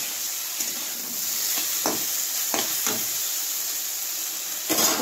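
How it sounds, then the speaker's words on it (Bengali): Bitter gourd and eggplant frying in oil with salt and turmeric, a steady hissing sizzle close by, punctuated by several brief scraping swishes as a spatula turns the vegetables. "তো উচ্ছেটাকে ভালো করে একটু ভেজে নিয়ে তারপরে বেগুনটা দিয়ে নুন আর একটু হলুদ দিয়ে ভেজে নিচ্ছি"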